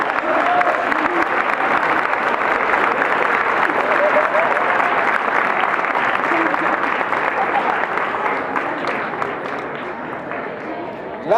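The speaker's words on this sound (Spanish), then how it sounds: "Un aplauso." An audience at a psychogerontology talk breaks into sustained applause, thick and steady clapping that fades slightly toward the end, with some voices in the crowd.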